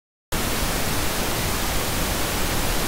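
Steady, even hiss of pink noise starts abruptly and holds at constant loudness, balanced between a soft rumble and airy high end.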